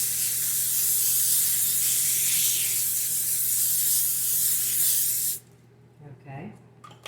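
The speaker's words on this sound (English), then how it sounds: "let's spray our parchment paper in our pizza pan" Cooking spray hisses in one continuous burst onto parchment paper in a pizza pan for about five seconds, then stops, followed by faint handling sounds and a brief voice.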